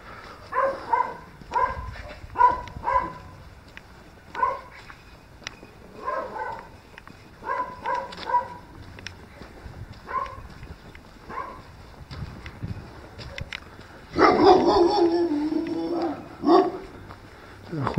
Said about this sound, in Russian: Хуже эти собаки.